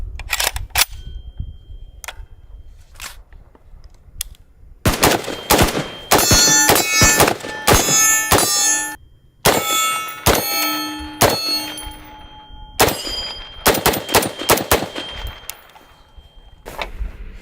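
Gunfire from an FN SCAR 16S rifle: a few sparse loud single shots early on, then dense bursts of rapid, sharp cracks with ringing metallic tails through most of the stretch, with brief pauses between strings.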